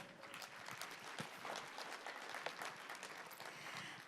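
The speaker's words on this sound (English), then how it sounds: "give another big round of applause for the wonderful performance" Big round of applause from the audience at the Korea International Water Week 2023 opening ceremony after a stage performance, a dense, steady crowd clapping sustained for several seconds without a break.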